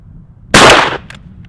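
A single loud shotgun blast from a 3.5-inch BB waterfowl load fired through a Kicks High Flyer choke at a 30-yard pattern target, sharp and close, with a short decaying tail and faint echo after.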